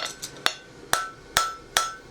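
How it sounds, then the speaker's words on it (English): A steel horseshoe is hammer-finished by hand, with safing and boxing of its edges and the sharp inner edge knocked off. Sharp metallic hammer strikes ring out close up, six blows spaced about every half second, with no talk. "you just knock on a little safing and boxing with your hammer"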